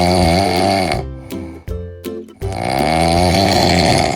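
A cat snores loudly and close up in two long rasping breaths, the first broken off into short snorts before the second drawn-out snore, with no talking.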